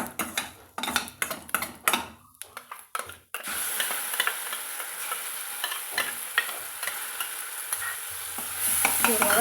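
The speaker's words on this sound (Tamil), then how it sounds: "ஒரு கொத்து கருவேப்பிலைங்க அதாங்க இது கூட நம்ம சட்னி போட்டு ஒரு வதக்கு வதக்கி எடுத்துக்கலாங்க" A sprig of curry leaves sautéing with chutney in a pan. Quick clattering stirs come first, then a loud, continuous frying hiss runs to the end.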